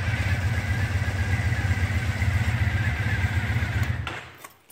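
Triumph Thruxton motorcycle engine at a fast idle, a loud, steady low throbbing pulse close by that holds evenly for about four seconds and then cuts off abruptly near the end.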